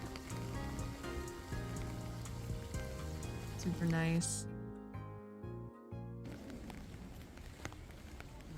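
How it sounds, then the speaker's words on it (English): Rain patters steadily on an umbrella outdoors by a small koi pond and torii gate in Japan, a dense hissing wash under a speaker's voice. "You can hear the rain on my umbrella."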